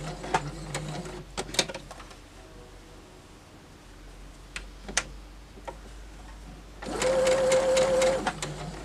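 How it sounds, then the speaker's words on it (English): Sewing machine stitching a quilt, a few scattered handling clicks and taps, then a fast, steady mechanical whirr of stitching for just over a second near the end. "I'm going to flip it around and sew from the other side"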